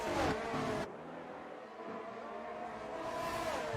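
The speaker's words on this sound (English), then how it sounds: "it looks like, or at least it sounds like Gloomy is struggling with his gearbox, but that might only be the game" A race car with a struggling gearbox in a racing game, engine whine rising and falling through uneven revs, starting loud and near, then dropping to a softer, wavering drone.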